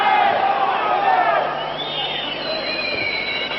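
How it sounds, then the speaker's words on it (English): An ice hockey arena crowd at a 1989 Izvestia Prize game between Sweden and Canada gives a steady, broad roar that swells briefly and settles, with a commentator talking over it throughout. "A little bit of crowd reaction there."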